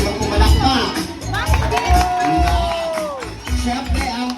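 A crowd at a fan meet-and-greet and birthday celebration cheers and whoops, with scattered clapping mixed with loud voices and shouting all around.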